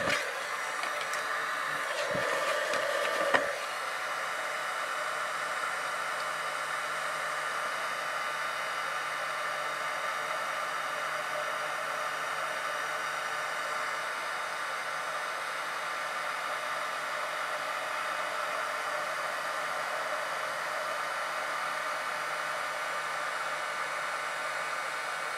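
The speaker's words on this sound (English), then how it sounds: "once your heat tool's heated up, it actually goes quite quickly." A craft heat tool blows hot air onto a card in a steady, even whoosh that continues without a break, with a few faint clicks near the start.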